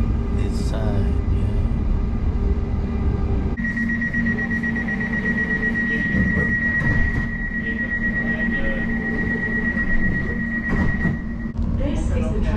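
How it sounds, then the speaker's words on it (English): On board a London Elizabeth Line train in motion, a continuous rumble of running carriages with a long steady electronic tone and chime, while onboard announcements and nearby voices talk over it. "This is the train to Liverpool Street."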